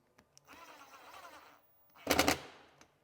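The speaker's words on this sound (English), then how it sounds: "and then we can drive our screw" A drill drives a screw into a glass retaining clip on a cabinet door, heard as a moderate whirring burst followed by a louder, shorter burst close by, with small clicks before and after.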